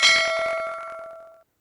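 A notification bell sound effect: a single bright metallic chime that rings out clearly on its own and fades smoothly within about a second and a half.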